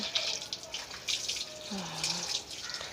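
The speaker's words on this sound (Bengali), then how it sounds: "এবার তার স্নান হচ্ছে" Running water from a tap splashing while a pet is bathed, uneven gushes and drips with a voice talking briefly over it, close by.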